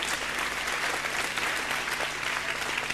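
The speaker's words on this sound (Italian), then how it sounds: "ra è il nostro George Clooney, Nicola Falco, un applauso per lui" Studio audience at a televised talent show in Italy breaking into loud, steady applause, dense clapping filling the whole stretch with faint voices underneath.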